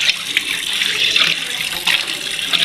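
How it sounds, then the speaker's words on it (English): Water runs steadily from a tap at a plumbing site, a continuous close splashing hiss with small fluctuations and no voices. "There is water right here"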